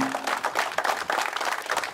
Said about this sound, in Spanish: a quien les pido también un fuerte aplauso